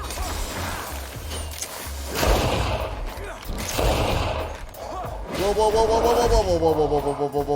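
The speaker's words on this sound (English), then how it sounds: "Throw that bomb." A thrown bomb goes off in the game GreedFall, a couple of loud bursts mid-clip amid combat noise, followed by a ringing, whinnying creature cry toward the end.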